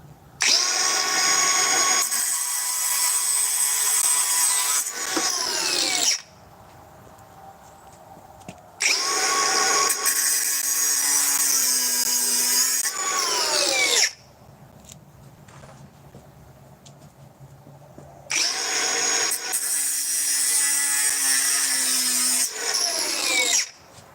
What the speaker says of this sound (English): I'm just testing grinders.